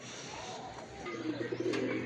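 Racing pigeons cooing softly during a summer race arrival at the loft, low gentle coos near and fairly faint, with a few brief chirps and light background noise.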